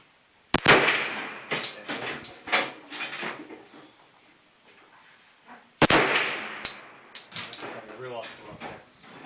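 Two sharp rifle shots at an outdoor gun range, several seconds apart, each a loud crack with a brief ringing tail, followed by clicks and handling noises while people talk quietly nearby.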